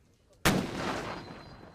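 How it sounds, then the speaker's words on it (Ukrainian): A single loud gunshot cracks sharply at a military training range after a brief quiet moment, then rolls out into a long, fading reverberating echo. "Одні стріляють, інші дивляться."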